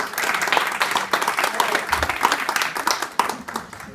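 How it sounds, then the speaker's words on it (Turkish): Audience applause at a family communication seminar, a burst of dense clapping from a crowd that rises and fades over a few seconds. "Lütfen kendinize kocaman bir alkış verin."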